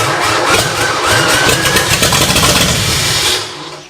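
An old Ford V8, flooded with fuel, cranks steadily for several seconds with uneven exhaust pops, loud and close, then cuts off near the end.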